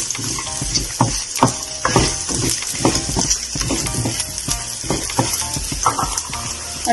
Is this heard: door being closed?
no